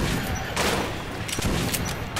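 Weapon fire in Metro 2033, a dense burst of shots and crackling reports filling the short moment, loud and close with a noisy, rough texture.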